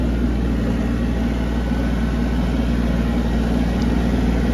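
An Iseki TA 235 Japanese tractor drives a rotary tiller at 540 rpm through an overgrown raspberry patch, a steady low engine drone with continuous mechanical rumble, close and unbroken throughout.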